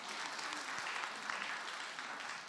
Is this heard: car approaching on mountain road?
no